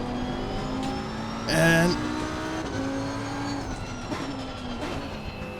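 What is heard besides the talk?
race car engines accelerating in video game Assetto Corsa Competizione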